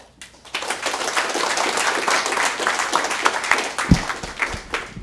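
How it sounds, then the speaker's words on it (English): Meetup attendees at a ReactJS talk applaud the speakers, a sudden burst of clapping from a modest room crowd that holds steady, close and fairly loud, with a few louder individual claps toward the end. "Let's give another hand of applause for these guys"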